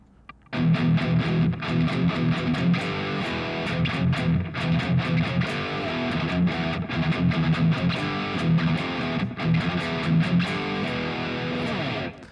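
Electric guitar through a heavy distortion pedal chugs a dense, loud riff with sustained crunchy tone throughout, no voices.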